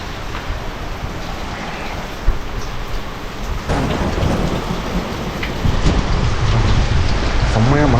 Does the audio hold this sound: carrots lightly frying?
no